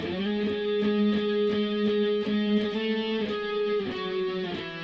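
Electric guitar plays a repeating octave pattern from a song, paired notes an octave apart, steady rhythmic plucks moving down in steps, clear and close with no voices.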